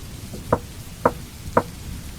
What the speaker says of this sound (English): 3 knocks, continuously, coming from the kitchen window.